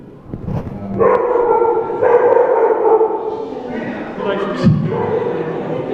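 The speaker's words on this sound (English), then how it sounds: "that's my dog." A dog barks and yips in a run of tonal, whining calls, fairly close and loud over background room noise.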